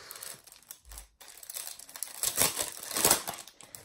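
Decorative paper sheets crinkle and rustle as they are handled, soft irregular crackles that build into a louder burst of crumpling toward the end, quiet and close with no talk.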